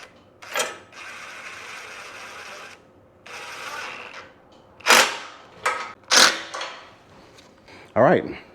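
Wrench or ratchet tightening the bolts on boat trailer bunk mounts, oiled threads, for a 1448 jon boat: sharp clicking bursts and sustained mechanical rasping strokes, close and fairly loud, with pauses between passes.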